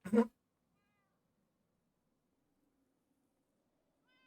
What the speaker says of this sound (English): Hey, the cats.